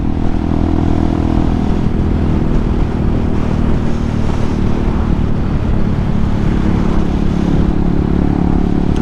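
A Hawk 250 dirt bike engine drones loud and steady while being ridden, a constant close rumble with no breaks for the whole stretch.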